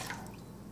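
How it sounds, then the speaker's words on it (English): Chicken broth is gently poured into turkey stuffing on a stove, a soft close liquid trickle with small drips over a low background hum, short and quiet. "You just gently pour it and have the stove on."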